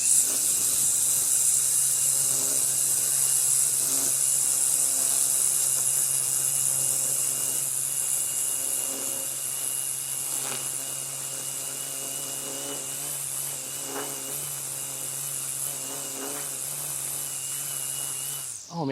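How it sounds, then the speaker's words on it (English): A battery-powered string trimmer used as a lawn edger runs steadily and loudly at close range, its motor whine and cutting hiss continuous throughout with no talking. "This is a string trimmer, now acts as a real edger"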